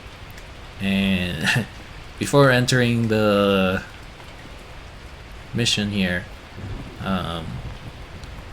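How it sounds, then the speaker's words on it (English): Steady rain falling and striking the ground in the video game Wonhon, a constant hiss running beneath a voice throughout. "So you can see the rain is like hitting the ground."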